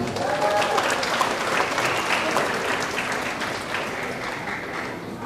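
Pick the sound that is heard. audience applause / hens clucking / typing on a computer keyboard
audience applause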